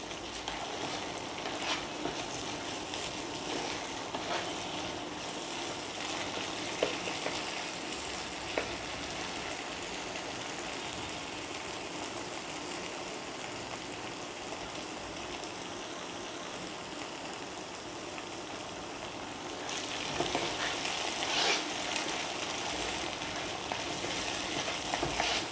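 Spice paste for mustard hilsa sizzles and crackles in hot oil over medium heat, a steady close frying hiss with scattered pops that grows slightly louder toward the end.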